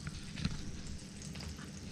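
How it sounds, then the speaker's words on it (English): Chicken sizzles softly inside a Whirlpool crisp-and-grill microwave, a faint, steady hiss and crackle, quiet and continuous throughout. "I'm cooking my chicken in the microwave"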